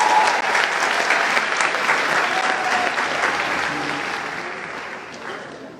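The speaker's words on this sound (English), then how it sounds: "Let's give them a round of applause." A crowd claps steadily and loudly for the class of 2019 at a Columbus International high school graduation ceremony in Ohio, and the applause slowly fades toward the end.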